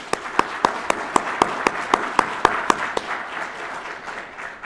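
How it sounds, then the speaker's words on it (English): An audience at a law enforcement training graduation claps for award recipients, a steady rhythmic applause of evenly spaced, sharp claps that fades slightly toward the end. "Please join me in giving the award recipients a round of applause."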